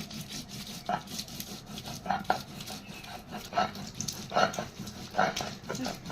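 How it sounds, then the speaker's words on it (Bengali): Raw mango is ground into a fine paste on a grinding stone, with rhythmic, close rubbing and scraping strokes recurring roughly every second. "আমগুলো প্রথমে আমি বেটে নিচ্ছি খুব সুন্দর করে মিহি করে বেটে নিতে হবে"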